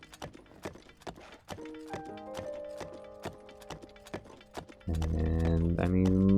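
A horse in the video game Zelda Breath of the Wild gallops with rhythmic clip-clop hoofbeats at a steady pace, under background music. A louder musical swell enters near the end.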